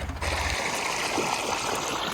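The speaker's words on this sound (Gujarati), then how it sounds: "દોસ્તો ખેતરમાં પાણી પહોંચી આવ્યું છે" Irrigation water streams steadily into a cumin field on a farm, a continuous close rushing trickle heard alone.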